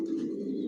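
A silver racer pigeon coos softly at close range, a brief low murmuring call on its own.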